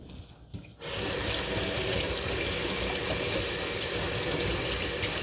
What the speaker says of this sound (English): My hands were already clean because I already washed them, but I just wanted to show y'all me washing